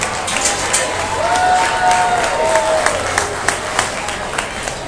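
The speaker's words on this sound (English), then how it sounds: "Give her a big round of applause." A crowd at a county fair livestock auction claps and cheers steadily for several seconds, with sharp hand claps standing out near the end amid background voices.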